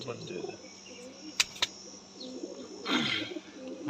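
Pigeons coo at a breeder's loft, with soft repeated coos and chirps against a light background hiss, plus two sharp clicks and a brief louder rustle.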